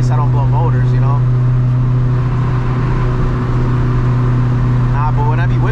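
B-series hatchback droning loudly from inside as it drives, the engine note rising and falling through downshifts, with someone talking over it.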